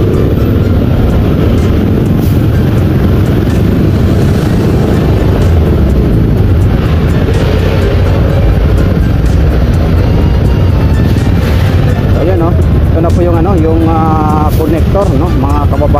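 Heavy road traffic on España street in Manila, a steady dense rumble of engines running through the whole stretch with someone talking over it throughout.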